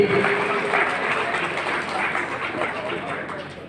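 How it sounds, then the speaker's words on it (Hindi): Audience applause for children at a public ceremony, with steady sustained clapping from a seated crowd, fairly loud and continuous, while voices murmur underneath. "आपको तालियां तो बजाइए बच्चों के लिए"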